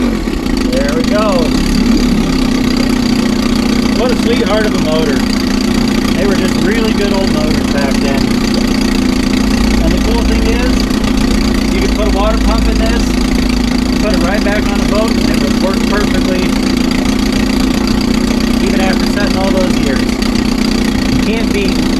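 A 1957 Sea King 5HP outboard motor runs steadily near and loud, after sitting unused for 20 years, its even engine drone continuing throughout while someone talks over it.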